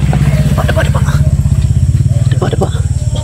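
A motorcycle engine putters close by with a steady, rapid low pulsing that holds for the whole stretch, with a few scattered clatters and rustles over it.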